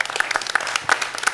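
Audience applause for volunteers at a Century Village delegate assembly, a steady patter of many hands clapping through the short stretch, moderately loud with no voices on top.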